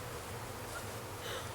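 Bees buzzing around outdoors among big leaves, a faint, steady insect drone with a low hum that holds evenly for the whole moment, no voices over it.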